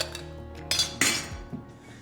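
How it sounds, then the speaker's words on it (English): Ice cubes tumble into a tall glass rimmed with tahini, making a couple of bright clinks and rattles close by, with no talk over them. "Add some ice cubes."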